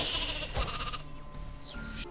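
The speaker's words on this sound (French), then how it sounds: "il y a mes moutons qui vont sagement au téléporteur" Sheep bleat in the Lemmings-like video game Flockers, a few short nasal bleats over busy game music and effects, fairly close and moderately loud.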